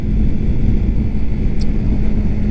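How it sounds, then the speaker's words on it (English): A 2019 Yamaha R3 two-cylinder sport motorcycle engine rumbles steadily at a low, throaty idle, close and fairly loud, with no voices. "I think the engine tone is decent. I don't think it sounds amazing"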